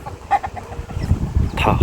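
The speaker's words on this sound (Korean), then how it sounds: "닭들이 닭을 키우는 농장입니다" Native chickens cluck in a rural farm coop in Jangsu-dong, Incheon. Scattered short clucks and calls come from nearby over an outdoor background.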